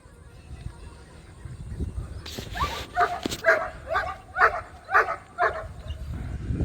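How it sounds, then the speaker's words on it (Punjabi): A German shepherd barks in a quick run of about six sharp barks with some whimpering yips, fairly close, over faint background noise. "ਇੱਕ ਸਾਡਾ ਡੋਗ ਆਪਣਾ ਜਰਮਨ ਬੜੀ ਰਖਵਾਲੀ ਹੈ ਕੁੱਤੇ ਦੀ ਬਹੁਤ ਰਖਵਾਲੀ ਹੈ"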